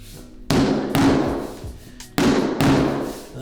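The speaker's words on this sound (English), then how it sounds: "the tiles may take a few more hits because they're bigger, that's normal." Multiclic EZplanks tiles are tapped into place during floor installation with four firm, close thuds in two pairs, each blow ringing briefly before fading, with no speech.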